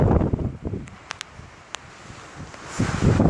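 Wind gusts through a tree on a desert hiking trail, a rushing, rustling roar that swells at the start and end. It dips in the middle, broken by a few faint clicks.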